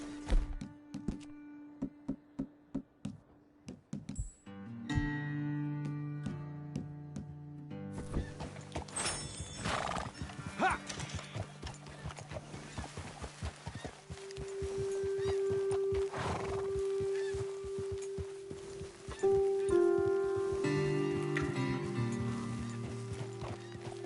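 Horses in Red Dead Redemption 2 neigh and whinny repeatedly while hooves clip-clop and thud close by, with low rumbling game ambience underneath.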